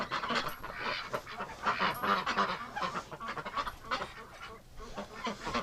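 Wintering ducks and geese crowd together indoors, honking and quacking in a dense, continuous chorus that rises and falls at moderate volume.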